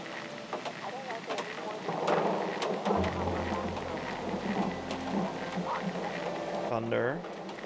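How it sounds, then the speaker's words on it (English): Deep rumbling thunder rolls under steady rain in the game Whispers of a Machine, building after a few seconds and lingering, while a voice talks over it. "Thunder."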